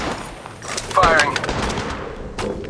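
Quick bursts of weapon fire ring out in Apex Legends Mobile, sharp and fairly close, with a character voice speaking over the shots.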